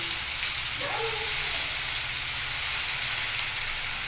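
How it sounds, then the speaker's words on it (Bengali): Soybean balls dropped into hot oil, a steady broad sizzle and hiss of deep-frying that holds evenly throughout, close and fairly loud, with a brief faint tonal chirp early on. "এই দেখো এইভাবে তোমরা তেলের মধ্যে আস্তে আস্তে ছেড়ে দেবে"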